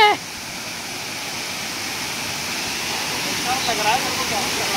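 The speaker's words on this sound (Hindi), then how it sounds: "झरना, देखो झरना," A waterfall pours in a steady, full hiss of rushing water, close and continuous throughout, with a brief burst of louder sound at the very start.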